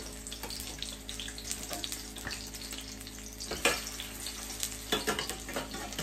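Breakfast fritters frying in a covered pan, with a steady crackling sizzle and occasional sharper bursts of spatter and a clatter partway through.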